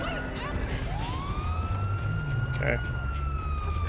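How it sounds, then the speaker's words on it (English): A police car siren in GTA 5 wails in a long, steady sweep at moderate distance, over low rumbling engine noise. A voice speaks briefly partway through. "Let's turn off the light or the sirens"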